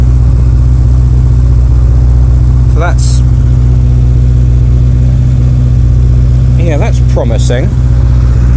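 Engine fast idling, a loud, steady low drone with constant harmonic hum, someone speaking briefly over it near the end.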